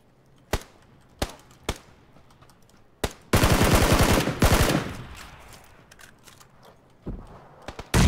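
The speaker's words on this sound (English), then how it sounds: "He was shooting at someone else." Gunfire in the PUBG video game: scattered single shots crack out, then a dense burst of rapid automatic fire follows, with a few more sharp shots afterward.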